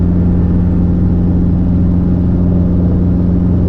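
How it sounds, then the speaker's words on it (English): An R22 helicopter engine at takeoff gives a steady, loud droning hum with a constant whir, unbroken throughout and without voices. "helicopter 522 Alpha Golf, taking off runway 28, right close traffic"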